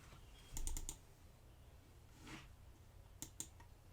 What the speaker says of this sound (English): I'm going to type the same instructions.